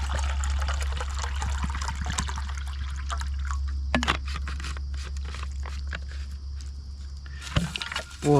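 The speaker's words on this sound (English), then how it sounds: "boil some water real quick." Water trickles and pours into a pot for boiling breakfast oatmeal at an outdoor bushcraft camp, with scraping and clinking of gear over a low steady rumble, ending in a louder splash.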